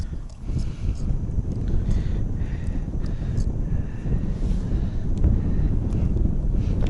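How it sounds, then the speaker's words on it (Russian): Gusty wind in the taiga buffets the camera microphone during spring ice fishing for burbot, a loud, low rumbling roar that persists throughout, swelling and easing in bursts. "Ветер, ребята, страшно, конечно. Задует в камеру, наверное."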